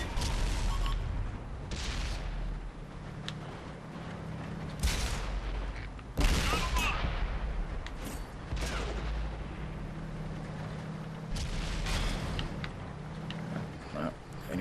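Tank guns fire in the World of Tanks console game, several heavy booms spaced every few seconds over a constant rumbling engine drone, with a loud blast near the middle.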